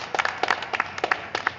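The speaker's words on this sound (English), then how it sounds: "shall we clap?" A small group at a public meeting claps briefly, scattered and uneven hand claps, fairly close and modest in volume, with no talk over them.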